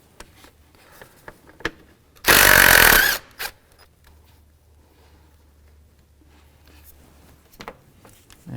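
An 8mm bolt is loosened on a 2015-2019 Hyundai Sonata while replacing the intake manifold runner control motor, a single loud burst from a power driver lasting about a second, surrounded by light metallic clicks and a quiet hum.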